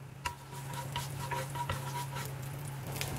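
Oil sizzling on a hot plate for Korean-style beef, a steady close hiss with scattered light crackles and a few soft clinks, no talking.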